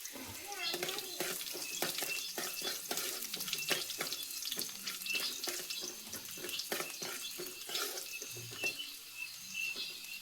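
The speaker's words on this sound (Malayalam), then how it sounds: "അത് ഇഞ്ചി വെളുത്തുള്ളിയും കൂടി ചേർത്തിട്ട് അതിന്റെ പച്ചമണമൊക്കെ ഒന്ന് മാറുന്ന വരെ ഒരു 5 മിനിറ്റ് മാത്രം വഴറ്റി കൊടുത്താൽ മതി" Ginger and garlic sizzle steadily in a pan while a spoon stirs and scrapes, a close, continuous frying hiss with small clatters throughout.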